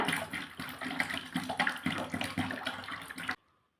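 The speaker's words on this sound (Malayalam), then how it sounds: "ഞാൻ വെള്ളം ചേർത്ത് കൊടുക്കുകയാണ്" Water pours steadily into a homemade dish wash mixture, a close, splashy gushing stream that runs for about three seconds and then stops abruptly into near silence.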